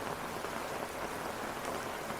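Steady rain falls, a dense even hiss with no pauses and no voices, heard close and moderately loud.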